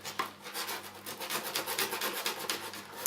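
Coarse 80-grit sandpaper rubbing over a plastic-welded interior trim repair, a steady close-up rasping scrape with rhythmic back-and-forth strokes and no talking.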